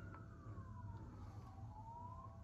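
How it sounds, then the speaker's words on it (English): Emergency vehicle sirens wail in the city of Warsaw, heard faintly from a high-rise apartment, one long tone sweeping down and then rising again over a low traffic rumble. "Can hear the sirens."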